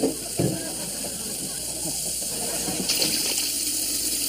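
Very hot water poured into a 2-liter plastic pop bottle, a steady hissing gush that runs throughout at moderate level with a few brief knocks.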